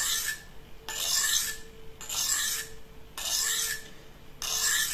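Knife blade drawn across a DMT diamond sharpening stone with light pressure, four rhythmic rasping strokes in a row, close and crisp, with short quiet gaps between passes.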